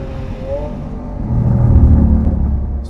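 A Lamborghini Aventador S in Corsa mode roars on a race track. Its deep, loud engine rumble holds steady, then swells louder and heavier through the middle before easing slightly, with no talk.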